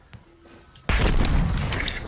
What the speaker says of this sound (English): Throwing nade!